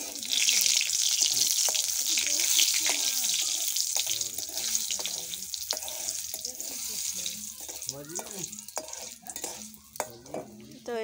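Garlic sizzles in a pan with a steady bright frying hiss, joined by stirring scrapes, while someone talks over it throughout.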